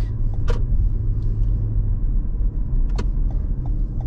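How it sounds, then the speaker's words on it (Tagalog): Road traffic rumbles with a low, continuous engine drone heard from inside a car, with a few brief clicks and rattles near the start and middle and no talking. "Traffic dyan, Win."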